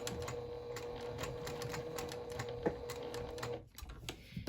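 Sewing machine stitching a lanyard keychain: rapid, even mechanical ticking with a steady hum, stopping briefly near the end before a few more clicks.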